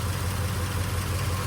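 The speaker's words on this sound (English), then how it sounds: "But you can hear the engine runs really good." An old Chevy II's flathead engine idles smoothly and quietly, a steady low mechanical hum with no other sounds.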